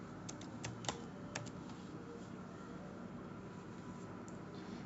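Fingers tap out a coupon code on a computer keyboard: a short run of faint, close key clicks near the start, then only quiet room noise.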